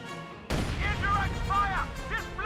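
A sudden heavy blast opens a mortar barrage in the strategy game Company of Heroes 2, its rumble continuing under a talking voice.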